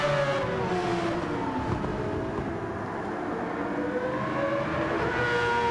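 A Mazda race car in a racing video game drones along at a steady high-revving engine note, with the whine of other cars layered over it and shifting slightly as they run in a line.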